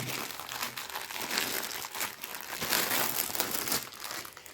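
Plastic packaging of a cross-stitch kit parcel crinkles and rustles steadily while being unpacked, close and fairly loud, with no voices.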